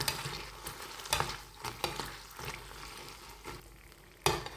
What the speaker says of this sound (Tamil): இப்போ வந்து மிளகாயும் வடிவாக பொரிஞ்சிட்டுது